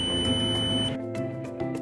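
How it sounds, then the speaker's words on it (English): A Sumitomo Q502 fusion splicer's oven emits a steady electronic beep at the end of its cooling cycle. The tone holds for about a second, then cuts off, leaving low machine hum. "The oven will go through a cooling cycle and an audible beep to let you know when it's done."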